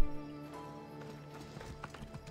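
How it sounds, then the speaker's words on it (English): A horse in Assassin's Creed Odyssey clip-clops with hooves thudding over sustained musical tones, then snorts or whinnies briefly, moderately close and without talk. "Horse."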